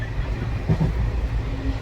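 Inside a moving passenger train between Harihara and Koppal, a low, steady rumble of the carriage fills the background, with a brief louder thump midway.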